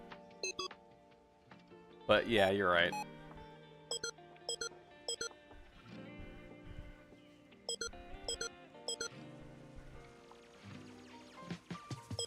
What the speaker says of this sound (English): These ones have a beep sound.